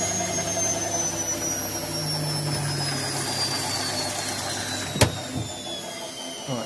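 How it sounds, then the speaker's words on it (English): A Bush WMNB712EW washing machine motor spinning at 1200 RPM in a service test, giving a steady whine and hum with one sharp click partway through. "So this is a motor test. It's 1200 RPM."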